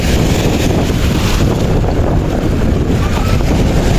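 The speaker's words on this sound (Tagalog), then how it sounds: "sobrang lakas ng alon" Strong sea waves surging onto a shore where shellfish wash up, a loud continuous roar of surf mixed with heavy wind buffeting the microphone, with no pauses.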